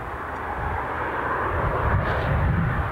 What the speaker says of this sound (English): that being a Cessna 560XL, Citation XLS. So that's final incoming action.